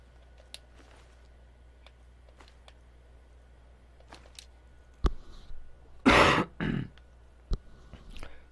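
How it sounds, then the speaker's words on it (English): Several harsh coughs from a person, a couple of short isolated bursts followed by a louder cluster of hacking coughs, heard close over faint background hum from a Skyrim game session. "Sorry about the coughing"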